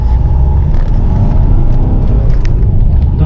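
A diesel car engine rumbles and revs steadily up close under acceleration, a loud continuous drone with no voices.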